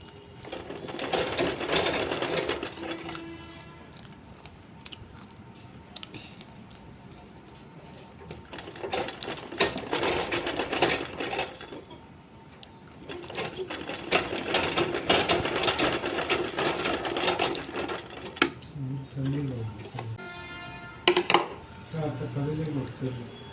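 An electric sewing machine stitches a long frock coat in repeated whirring bursts of a few seconds each, split by pauses, close and clear, with small handling clicks near the end.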